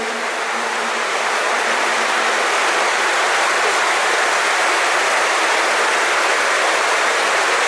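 An underground river in Sheffield's Meersbrook culvert rushes down steep weirs, making a loud, steady, unbroken roar of falling water.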